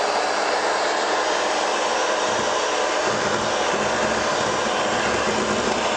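Electric hand mixer beating cake batter in a bowl, a steady continuous whir that runs loud and unbroken throughout with no talking.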